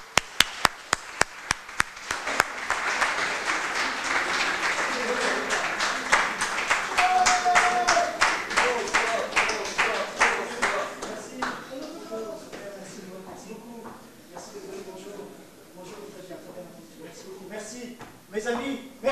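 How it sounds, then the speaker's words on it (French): Clapping from a conference audience welcoming a speaker at a PHP developer event: a few sharp, isolated claps build into dense applause that thins into scattered claps, with a voice speaking over the later part. "Je vous prie de l'accueillir dans un tonnerre d'applaudissements."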